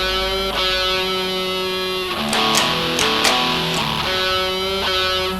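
Electric guitar note bent up and released back down with vibrato, played over a sustained chord backing with a few picked accents in the middle, clear and close.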